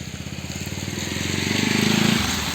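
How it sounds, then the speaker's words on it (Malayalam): A motorbike engine putters nearby on a flooded road, its pulsing drone growing louder as it approaches and then easing slightly as it goes by. "ഒരു ബൈക്ക് ഇതാ പോണ്ട്"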